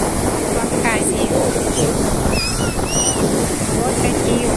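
Strong Black Sea waves crash and wash onto the beach at Gagra, Abkhazia, at sunset, a loud, steady roar of surf mixed with heavy wind rumble on the microphone and a faint voice in the background.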